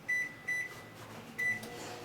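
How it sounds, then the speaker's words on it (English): A microwave oven runs while heating frozen vegetables, giving a low steady hum with three short electronic beeps sounding over it, close and fairly quiet. "So we'll throw this up here in the microwave."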